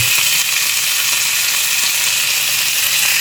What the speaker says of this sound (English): I'm gonna flip it over here